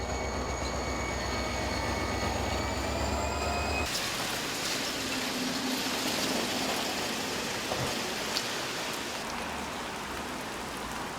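A train rolls through Hogye station with a steady, loud rumble and wheel noise that fills the whole stretch, and the sound shifts to a broader hiss partway through as the cars pass close by.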